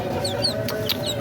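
Backyard chickens, hens with thirsty chicks and a black Aseel, cluck steadily at moderate volume, with high thin chick peeps scattered over the clucking and no talking.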